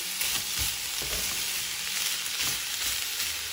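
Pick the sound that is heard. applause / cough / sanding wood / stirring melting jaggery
stirring melting jaggery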